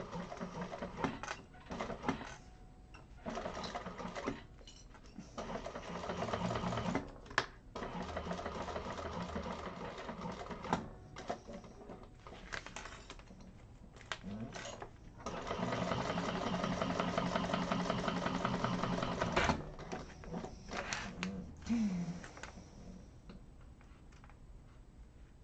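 A sewing machine stitches through fabric at the corner of a pocket, running in steady stretches with a ticking mechanical rhythm and a few brief pauses.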